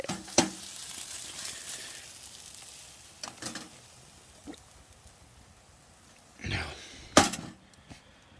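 Potatoes and onions frying in a pan on a camping stove inside a tent, a low steady sizzle running throughout with a few sharp clinks and scrapes of stirring, close by.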